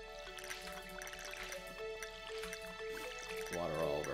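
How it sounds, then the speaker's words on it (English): A watering can waters crops in the Stardew Valley farming game, making small dripping, splashing sounds. A gentle game soundtrack plays underneath, and a voice talks at times. "Water all of our plants."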